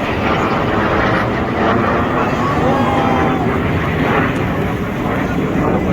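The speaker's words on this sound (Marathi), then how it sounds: "प्लेन आलेलं आहे बघा. हे बघा कसं जातं आहे. बघा किती स्पीडमध्ये" An Indian Air Force Suryakiran jet roars past at the Marine Drive air show in Mumbai, a loud continuous engine rush with heavy wind buffeting on the microphone and someone talking over it.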